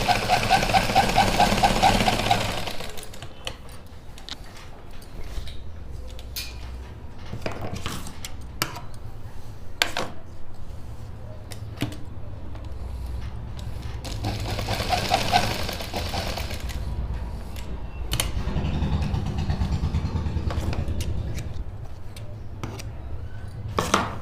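A sewing machine stitches over the pleat marks on a suit, running in a steady mechanical whir with brief pauses and some clicking handling noises in between, close by and moderately loud throughout.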